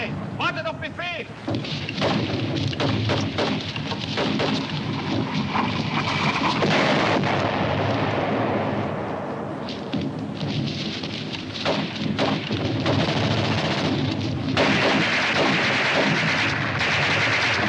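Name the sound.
artillery and gunfire in a 1951 war film battle scene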